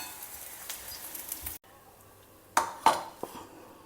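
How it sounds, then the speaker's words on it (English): Fried bitter gourd is lifted out of hot oil, with a soft sizzle, a brief pause, then a few sharp metallic clinks of utensils against the pan, close and fairly loud. "Now drain it out from the oil."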